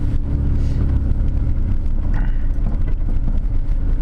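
A car gently accelerates and turns out of a parallel parking spot on a snowy street in Canada, a steady low engine rumble mixed with wind noise, continuous and fairly loud.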